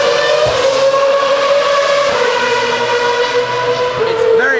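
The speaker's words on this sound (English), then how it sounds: "The cars are just lining up now, going around to the grid." Continuous engine drone of Formula One cars moving at low speed to the starting grid at Albert Park, Australian Grand Prix, steady and fairly loud, with a brief rising whine near the end.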